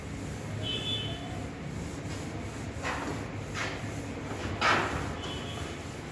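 Short brushing swipes of an eraser rubbing writing off a board, a few soft strokes over steady room hiss with no talk.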